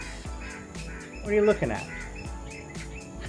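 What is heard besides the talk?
bird calling nearby in the morning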